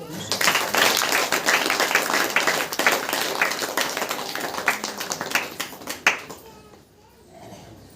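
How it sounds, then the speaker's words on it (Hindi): A church congregation claps hands during a Hindi-language Saturday prayer meeting, with dense, loud rhythmic applause for about six seconds that then stops abruptly, leaving a quieter room. "ताली बजाकर"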